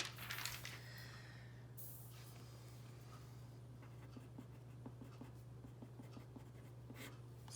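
A pen scratches across paper while math problems are worked, making a continuous soft, close scraping with small taps over a steady low hum.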